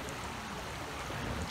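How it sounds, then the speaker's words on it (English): The Big Sur River flows close by in a dense, constant rushing wash, steady and unbroken with no talking. "So this is the river we're on"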